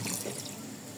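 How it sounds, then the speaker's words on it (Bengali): Water poured from a wok over chicken pieces for a Bengali curry of country chicken, giving a steady splashing pour that runs for the full second without any talk. "এই যে কড়াই থেকে পানি দিয়ে দিলাম"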